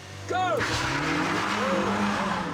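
A Renault race car with a roll cage launches hard off the start line, engine screaming and tyres skidding right after a shouted "go" and countdown, loud and close with voices around it.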